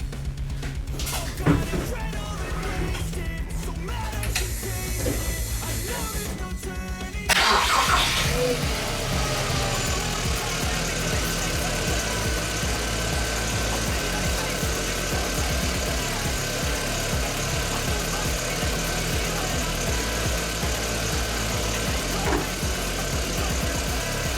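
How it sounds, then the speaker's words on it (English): A Volkswagen Polo GTI engine cranks and catches after a flat battery, then settles into a steady, fairly loud fast idle with a constant hum that continues to the end. "Now, as you can see, the vehicle started. I'm going to let it come off fast idle for a moment"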